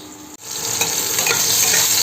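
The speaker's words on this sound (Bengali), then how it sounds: "আমাকে হালকা আঁচে ভেজে নিতে হবে" Small round chhana (cottage cheese) balls frying in oil over low heat, giving a steady, close hiss of sizzling that swells after a brief dip near the start and then holds continuous and fairly loud, with no voices.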